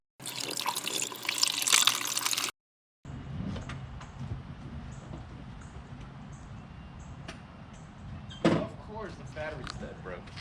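Water poured into a Mazda Miata's engine, a steady close splashing trickle with clanks and a sharp knock near the end.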